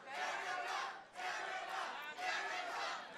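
Crowd cheering and shouting at an arm wrestling supermatch at Joe's Live in Rosemont, Illinois, outside Chicago; loud, sustained roaring in three surges with a brief dip between each.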